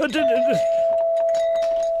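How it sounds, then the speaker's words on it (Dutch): A doorbell chimes once with a sustained ringing tone after a brief voice, the tone lingering steadily in an indoor Dutch-language setting. "Hier, daar gaat de bel."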